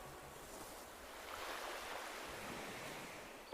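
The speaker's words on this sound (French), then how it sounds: "Bruit des vagues." Ocean waves washing on the shore in Animal Crossing: New Horizons, a quiet, soft, continuous surf wash swelling gently over a few seconds, with no one talking.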